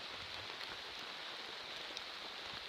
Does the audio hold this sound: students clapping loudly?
no